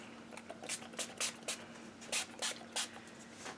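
Eight short, sharp hissing bursts of a spray bottle spraying Oxide ink for gel printing, fired in a quick irregular rhythm over a faint steady hum.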